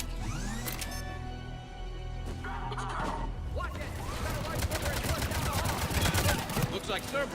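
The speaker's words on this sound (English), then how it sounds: "We have to take out those turrets!" Turret gunfire in Mass Effect Legendary Edition, loud rapid bursts of shots that build into dense crackling fire mixed with mechanical clatter and game music.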